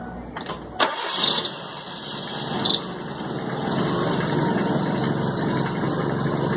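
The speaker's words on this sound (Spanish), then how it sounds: "Vamos a encender el vehículo." An American-market Kia Rio car engine cranks briefly and catches. It then settles into a steady, loud idle up close, with no talking.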